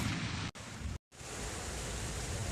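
Steady, dense rain hisses loudly and close throughout, broken by two brief cuts to near silence; no thunder stands out and no one speaks.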